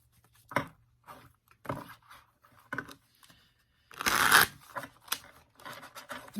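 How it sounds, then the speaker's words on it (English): A deck of tarot cards is shuffled by hand in short papery bursts, a few quiet riffles followed by one louder, longer flurry, close up and with no talking. "These cards, however, shuffle amazingly."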